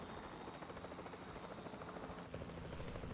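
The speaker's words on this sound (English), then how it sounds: "I can control the helicopter a little bit from here" A helicopter in the video game Jurassic World Evolution 2 gives a continuous, close rotor whir with a steady chopping pulse and no talk.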